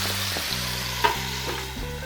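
Hamburg steak frying in a covered pan with mirin added, a steady close sizzle with a few soft bumps and clicks, no voices.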